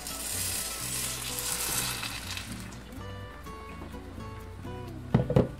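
Ground tomato poured into a pan of frying serrano chiles and onion, a loud steady sizzle that flares and then settles into a softer crackle, with a few sharp clatters near the end.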